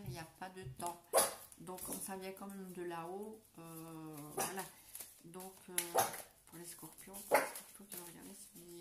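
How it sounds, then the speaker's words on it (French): Lily the dog barks in short, repeated yips and bow-wows, some whimpering, quite loud and close, overlapping someone talking throughout. "c'est mon chien qui aboie parce que le voisin fait du bruit"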